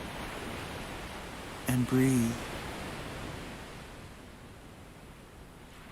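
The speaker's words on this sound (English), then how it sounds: "Hear again the sound of the waves as their forms collapse against the shallow rise of the beach." Gentle ocean waves wash and collapse against the shallow rise of a beach, a steady, soft hiss of surf running throughout while a voice briefly speaks over it.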